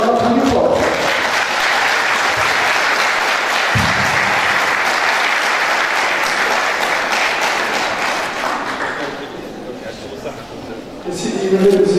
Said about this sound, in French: Et on applaudit fort.